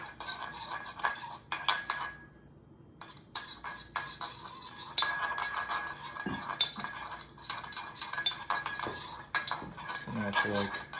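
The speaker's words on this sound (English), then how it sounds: "I'll stir a little bit." Metal utensil scraping and clinking against a pan while stirring a spicy sauce with red pepper flakes and olive oil for steak and eggs sushi, in uneven bursts of close scrapes and taps.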